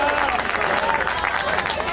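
Crowd applause and cheering rise after a tackle at a Manly Warringah versus St George Australian rules football match in Sydney, a busy mix of clapping and crowd noise under a commentator's voice.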